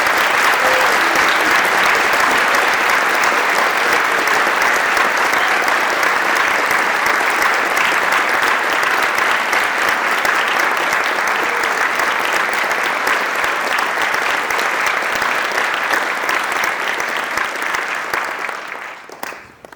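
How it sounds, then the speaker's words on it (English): A crowd at a military joint service awards ceremony applauds in steady, dense clapping that holds for nearly twenty seconds before dropping away at the end. "Please give them all a round of applause."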